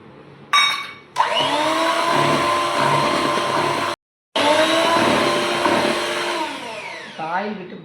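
An electric mixer whirs steadily as it beats chocolate sponge cake batter with oil, a loud continuous motor drone that briefly cuts out and restarts before winding down at the end.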